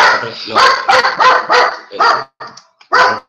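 A dog barks in a string of about eight loud, close, sharp yaps, with brief pauses between them, heard indoors during a class lecture on the endocrine system.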